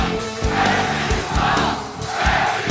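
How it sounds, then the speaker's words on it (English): Loud basketball arena crowd at an NBA Finals game, a dense roar of massed voices swelling and dipping in waves, with scattered shouts and a rhythmic pulsing chant-like pattern throughout. "Crowd not happy, but Indiana still up big."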